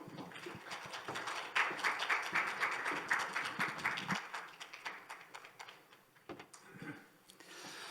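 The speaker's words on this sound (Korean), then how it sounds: "박수로 환영해 주십시오." A conference audience at a Korean SaaS development-support briefing claps to welcome an NHN Cloud presenter, with dense, steady applause for about four seconds that then thins out and fades.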